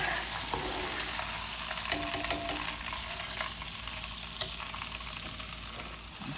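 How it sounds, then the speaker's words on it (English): Jumbo shrimp fry in hot oil with a steady, even sizzle and occasional small pops and stirring clinks, close by and without speech. "the last batch of frying is done"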